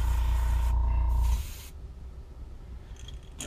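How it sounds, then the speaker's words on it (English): White paint sprayed onto a fishing lure, likely by airbrush, during the painting of a purple and green spotted frog popper: a steady close hiss for over a second, then stopping, leaving a quiet background. "And we're just going to spray it a little bit."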